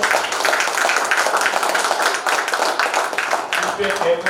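Audience in a Tamil body-language seminar hall clapping steadily, a dense sustained wash of many hands throughout, fairly close and loud, with no talk over it.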